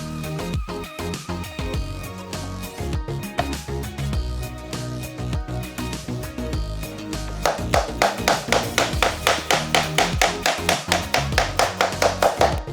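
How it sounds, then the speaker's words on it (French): Vinyl floor planks laid directly over tile are tapped at the head joint to lock them together, a quick series of sharp, evenly spaced knocks that speeds up into a steady close rhythm with music playing underneath. "Et ensuite, tapez la tête pour qu'elle soit bien verrouillée."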